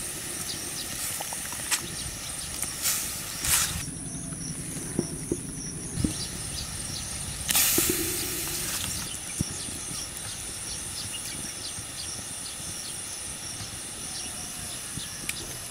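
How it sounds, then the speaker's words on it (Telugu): Tamarind-based curry of small fish boiling in a pot, a steady close hiss of bubbling and steam with a few brief louder surges and light clicks, no voices. "చేపల పులుసు బాగా మరుగుతుందండి."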